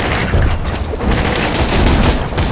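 A grenade mod blasts in Borderlands 2, booming in a dense, loud burst layered with rattling gunfire throughout a chaotic firefight, with no quiet gaps.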